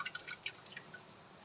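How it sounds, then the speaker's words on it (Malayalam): Tamarind water trickles into crushed spices for a rasam, heard as a quiet run of light, close drips and small splashes with no one speaking. "പുളിവെള്ളം ഒഴിച്ചു കൊടുക്കാം"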